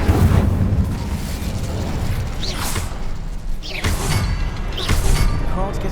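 Incendio fire spell cast in the video game Hogwarts Legacy, several whooshing bursts of flame with soft booms, repeating every second or so over a low rumbling background.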